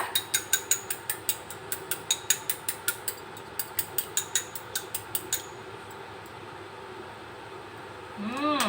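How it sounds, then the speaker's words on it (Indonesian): Eggs are beaten slowly with chopsticks for a corn, chicken and egg soup, making a close, regular series of light clicking taps for about five seconds before the sound trails into quiet. "kita kocok telur lahan-lahan"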